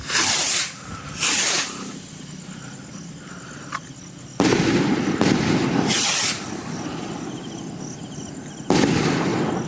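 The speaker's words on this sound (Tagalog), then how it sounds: "Eye of the Eagle by Eagle Fireworks." Several shots from an Eye of the Eagle firework cake by Eagle Fireworks launch with sharp bursts and crackling explosions, loud and close, separated by hissing fizz and lingering outdoor noise.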